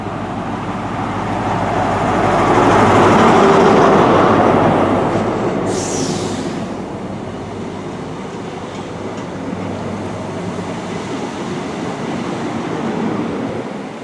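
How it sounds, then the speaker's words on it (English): A Class 43 CrossCountry high-speed train of seven coaches pulls out of Chesterfield station, its diesel rumble swelling loud and close then easing into a steady roar, with a brief high screech partway through. "again pulling out is the Class 43 cross-country high-speed train service to Paignton"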